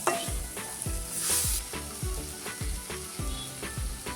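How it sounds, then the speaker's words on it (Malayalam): Oyster mushrooms sizzle steadily as they are stirred through chilli powder in a pan for a Kerala-style mushroom roast, with rhythmic scraping strokes of the spoon repeating close up over continuous frying hiss. "അതിന് ശേഷം ചിപ്പിക്കൂൺ ഇടുക. എല്ലാം നന്നായി ഒന്ന് ഇളക്കി എടുക്കുക."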